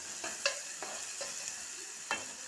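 Onions fry with salt in a pan, a steady low sizzle broken by a few distinct scraping stirs of the spoon, close and fairly quiet, no one speaking.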